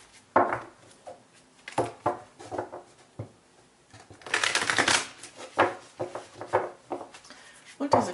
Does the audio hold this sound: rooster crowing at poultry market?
no